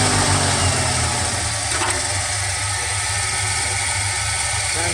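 A 1977 Chevrolet squarebody truck engine idles steadily, a low rumbling hum with a faint rise partway through, close and continuous with no talking.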